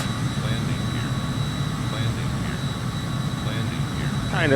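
A steady, loud roar from the jet engines of an SR-71 Blackbird in Microsoft Flight Simulator, just after takeoff from Groom Lake, holding an even, unbroken drone throughout.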